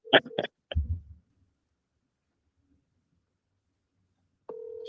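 A telephone busy signal during a phone call, a steady tone that starts abruptly near the end after a few short bursts of sound and a long silence.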